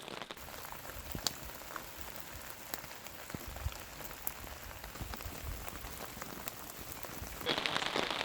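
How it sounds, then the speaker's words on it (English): Rain falls on a camping tarp in a soft, steady patter, with sharper individual drops ticking at random over a quiet, continuous hiss. "So it's pretty much rained every day, a little bit at least."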